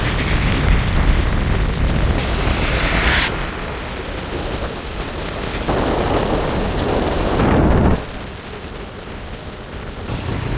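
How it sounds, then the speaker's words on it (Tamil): Heavy rain drums on a moving vehicle during a downpour, a loud, steady wash of noise with rushing wind that shifts in intensity and drops off sharply near the end. "மழை அதிகமாக பிடிச்சிருச்சு"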